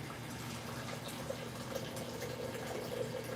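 Tap water pouring into a coffee pot up to the 3 mark, heard as a quiet, steady trickling hiss that runs throughout.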